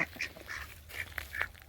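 Pet ducks quack in a quick, faint series of short calls over a low background hum.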